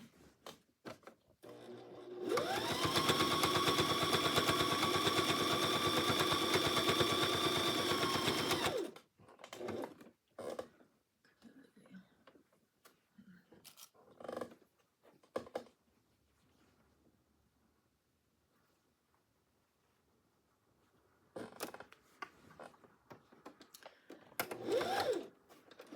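Sewing machine stitching quilt binding, a steady fast motor-driven whir running continuously for several seconds before stopping, followed by quiet handling clicks and rustles of fabric.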